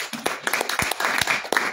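An audience at a diaspora conference in Amsterdam claps, with sharp irregular hand claps rising into a scattered round of applause, close and fairly steady throughout.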